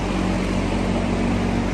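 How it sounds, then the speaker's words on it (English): A loud, steady whooshing drone with a low hum underneath, constant throughout, like a large fan running close by. "sorry for the fan noise"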